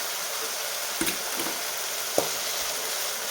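Chopped tomato with salt softening in a pan over a low gas flame for a spicy tempered dal, giving a faint steady sizzle with a few soft stirring clicks and scrapes.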